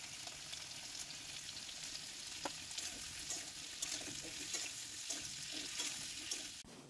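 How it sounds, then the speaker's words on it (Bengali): Pumpkin and cauliflower sizzling in hot oil in a wok, a constant quiet crackle and hiss with occasional stirring scrapes and clicks, heard alone. "কুমড়ো একটু ভাজা হয়ে যাওয়ার পর বাকি যে সবজিগুলো আছে তার মধ্যে আমি ফুলকপিটা দিয়ে দিয়েছিলাম ভাজতে"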